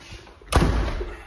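A single heavy thump as rotted door jambs are knocked out inside a house under renovation, one sharp blow near the mic with a brief rumbling tail and no talk.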